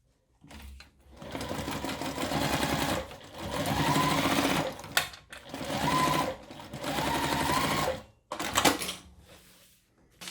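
A sewing machine stitches a pocket piece onto a shoulder bag in several loud, close runs of rapid whirring, separated by short pauses with clicks and fabric handling.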